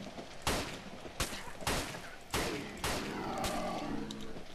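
Enemy gunfire in the horror game Cry of Fear: a string of loud, sharp blasts roughly every second, each followed by a short crashing decay, close and harsh with no talk over them.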